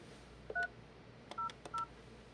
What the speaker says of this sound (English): We'll initiate a call.